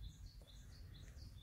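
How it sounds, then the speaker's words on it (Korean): Faint, distant birds chirp in quick repeated tweets over a low background rumble. "새소리도 좋고."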